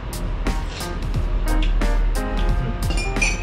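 Earl Grey tea-infused liquor sweetened with sugar syrup, stirred in a glass: a series of light, bright clinks and taps at an irregular pace, close and clear over a low steady hum.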